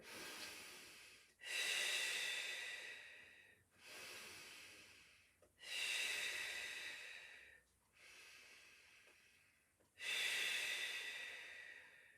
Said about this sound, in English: We breathe in through the nose, out through the mouth.